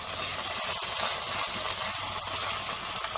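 Baby corn frying in a pan with ginger-garlic paste and turmeric, giving a steady close sizzle with faint stirring scrapes throughout, no voices.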